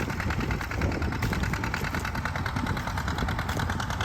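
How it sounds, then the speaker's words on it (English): A John Deere 730 tractor engine chugs past at a plow day, a loud, steady low-pitched rhythmic knocking that holds evenly throughout, with no voices over it. "We got the mighty 730 going by us here."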